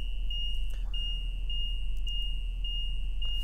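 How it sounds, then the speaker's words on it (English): A 2015 Tiffin Phaeton 40QBH motorhome sounds a continuous high-pitched warning beep as its leveling jacks lower, steady and piercing over a low engine hum. "as your jacks go down, you're going to hear a beeping noise"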